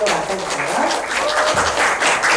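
A Korean talk-event audience claps and cheers as a brand founder is welcomed onto the stage. The clapping is thick and steady, with shouts of cheering rising through it from start to finish.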